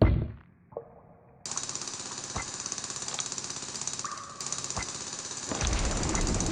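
Rock drilling in the PC game Lego Rock Raiders: after a brief quiet lead-in, a loud, harsh jackhammer-like rattle starts and runs steadily to the end, broken by a few sharp impacts.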